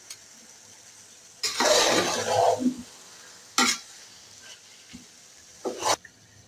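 Carrot halwa with khoya and dried nuts being stirred and roasted in a pan, a long dense scraping stir followed by several shorter bursts of stirring and scraping over a low background, close and fairly loud, no speech.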